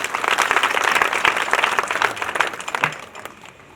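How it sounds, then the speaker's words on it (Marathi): Audience applause at a kirtan at a Balaji temple in Lohara: a dense, steady crowd clapping that holds strongly for almost three seconds, then thins and fades out. "कृपया करून सर्वांनी टाळी वाजवायची."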